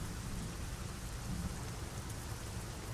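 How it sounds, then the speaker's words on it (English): Rumbling thunder amid steady heavy rain in American Truck Simulator, a low continuous roll under a broad rain hiss, moderately quiet with no voices. "thunder is so cool. The sound is so freaking cool"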